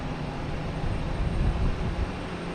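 Delta Airbus A330-900 airliner at Boston Logan Airport, a steady broadband engine roar with low rumble, fairly loud and continuous, swelling slightly mid-clip with no voices.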